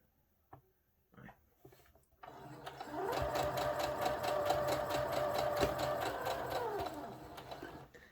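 A sewing machine runs a continuous line of gathering stitches on a satin-lined bonnet, rising into a steady rapid mechanical whir after a few faint handling clicks and then winding down near the end.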